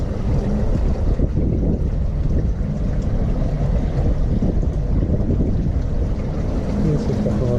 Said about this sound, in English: of a windy day today, as you can probably tell.